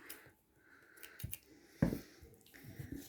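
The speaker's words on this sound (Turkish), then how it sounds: "Şöyle gördüğünüz gibi şu an kesiyorum." Scissors cut small pieces of fabric for a Barbie doll bag, a few quiet, close snips and crisp clicks spread unevenly over a near-silent room, with no talking.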